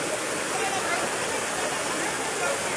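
Floodwater rushes loudly and steadily through Purok 1-Manasa, Anitapan, Mabini, Davao de Oro, a dense continuous roar with faint voices underneath.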